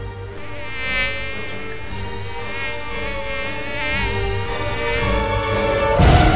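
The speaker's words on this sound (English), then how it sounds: "Mosquitoes at nighttime in my ear." Mosquito whining close by, a steady high buzz that wavers in pitch and swells slightly louder near the end, no talking.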